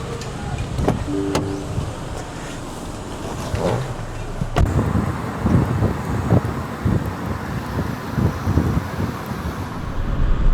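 An MG ZS crossover driving on the road, heard from inside as a steady rumble of road and wind noise with occasional knocks and clicks, fairly loud and continuous.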